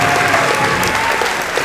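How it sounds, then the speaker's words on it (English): Audience at a middle school eighth grade promotion ceremony applauding the promoted students, a dense, loud, continuous wash of clapping filling the whole moment. "So let's clap it up for them."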